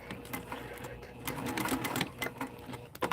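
A sewing machine stitches a seam around a lining, leaving the bottom open, running steadily with brief pauses and bursts at close range; no one speaks.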